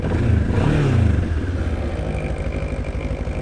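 A 2025 Moto Morini X-Cape 700 adventure motorcycle idles close by with a steady, shaky rumble, a brief rise in revs early on before settling into an uneven vibrating throb.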